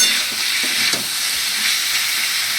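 Onion sizzles loudly in a pan with chicken, a dense, continuous frying hiss broken by faint stirring scrapes.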